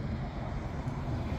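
Light wind blows outdoors in Kópavogur, Iceland, as a steady, low rumbling buffet across the microphone, continuous and fairly soft with no other sounds.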